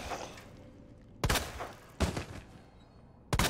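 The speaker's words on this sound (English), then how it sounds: "I'm gonna go ahead and shoot you in the face." Three loud, sharp gunshots in the Resident Evil 2 Remake fire at uneven intervals, each a sudden close crack with a short ringing tail over a low ambient background.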